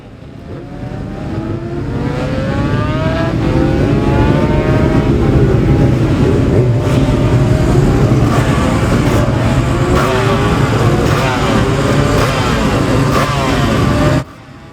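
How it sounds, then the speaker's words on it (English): Several two-stroke lightweight classic racing motorcycles at the Classic TT practice rise into a loud, sustained chorus of high buzzing, revving engines, overlapping close by as they pass, then cut off abruptly at the end. "Plenty of smoke and two-stroke engine noise to evidence also the inclusion of lightweight machines in this same practice."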